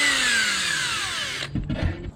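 Power drill whining as it bores screw holes into a wooden sleeping platform for overlanding, the pitch slowly dropping under load before it stops and a few clunks follow.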